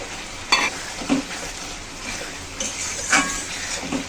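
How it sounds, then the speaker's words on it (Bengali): Fried prawns stirred into sizzling masala in a pan for a jackfruit and prawn curry, a steady close sizzle with a few sharp clinks and scrapes of a spatula against the pan. "এখন আমি ভেজে রাখা চিংড়িগুলো দিয়ে দিচ্ছি"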